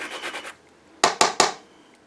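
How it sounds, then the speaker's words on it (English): A blood orange peel is shaved against a zester, first as a quick run of soft rasping strokes, then a pause and three sharper scraping passes, close and alone with no talk. "We're also going to add some of the zest of our blood orange."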